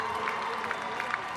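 An audience gives a brief round of applause for the medal-winning teams at a girls 13 Open volleyball awards ceremony: dense, steady clapping that fills the room, with faint crowd murmur underneath.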